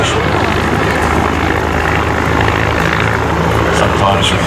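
At the Midland Air Festival, a group of aircraft flying in box formation produces a steady, loud engine roar that stays constant throughout, with no breaks.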